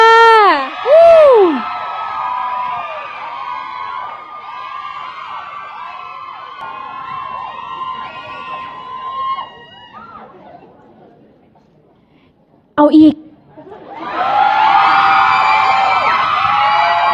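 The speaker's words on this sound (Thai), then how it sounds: "ขอเสียงกรี๊ดดัง ๆ ด้วยค่ะ" A large crowd at an award ceremony screams loudly and shrilly, the cries swelling and fading, then a brief silence before another burst of high-pitched screaming.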